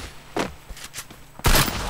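An M500 handgun in Free Fire fires a few separate, fairly soft shots, followed by one louder, sharper blast near the end.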